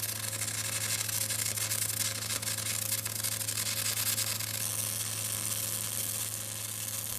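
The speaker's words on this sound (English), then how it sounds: "When the appropriate arc voltage relative to the welding amperage is selected, the arc is stable, creating a uniform sound." A stable welding arc at the appropriate arc voltage for its amperage gives off a steady, uniform crackling hiss with a low constant hum beneath it. It runs unbroken and close at an even level, with no talking.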